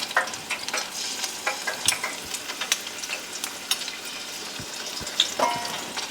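Battered shrimp for Southern shrimp and grits sizzle and crackle in hot grease, with bright popping spatters and occasional stirring clinks, close and fairly loud, with no talking.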